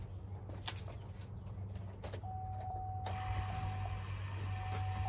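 An AirDog DF-165-5G fuel lift pump switches on after the key is turned, its steady low hum joined partway through by a higher electric whine, fairly quiet and continuous, with no talking.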